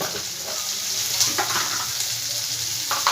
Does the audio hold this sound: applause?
no